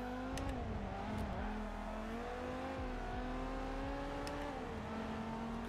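A race car in the video game Forza Motorsport 7 revs hard through corners, its engine note rising and falling over several gear changes, held close and steady with a couple of faint squeaks overhead.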